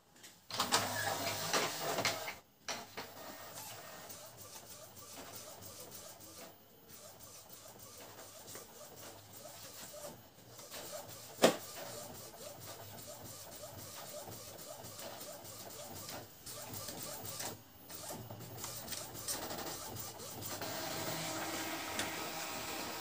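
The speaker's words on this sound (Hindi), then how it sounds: "करता हूँ कमांड नोजल चेक और प्रिंट ठीक है" An Epson L805 inkjet printer runs a nozzle check, pulling in white paper and printing it. You hear a long stretch of mechanical whirring, shuttling and feeding with a few short pauses and one sharp click midway. Nobody speaks.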